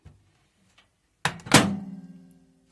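Glass jars set into a microwave oven for sterilizing: a sharp thunk of the door or jar contact followed by a louder clunk with a brief ringing tail, in an otherwise quiet kitchen.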